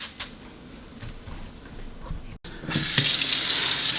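Tap water running and splashing into a bowl of dry broken soybeans set to soak, a quiet start building to a steady, loud gushing stream close by.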